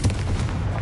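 A Confringo blasting spell going off in Hogwarts Legacy, a quick heavy boom with a rough low rumble, loud and close against busy game background noise.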